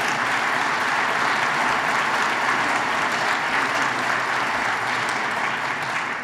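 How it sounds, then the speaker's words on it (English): Steady, sustained applause from a large crowd, dense clapping filling the whole stretch at an even, strong level. "he deserves a round of applause."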